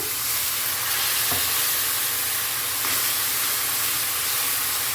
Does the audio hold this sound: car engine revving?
no